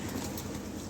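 A pair of racing pigeons, with soft low cooing murmurs that run steadily through the whole moment, fairly quiet and close by, and no voices over them.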